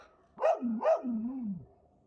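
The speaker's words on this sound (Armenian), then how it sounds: "Կարծես Ավրորան է բողոքի հաչալով։" Aurora the dog lets out two sharp, close barks in quick succession, trailing into a lower drawn-out growling whine, with no voices.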